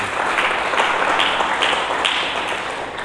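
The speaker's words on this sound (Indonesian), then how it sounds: "Berikan tepuk tangan bagi Yesus Kristus." A church congregation applauds during a sermon, a steady wash of many hands clapping with no pauses, fairly loud and filling the room throughout.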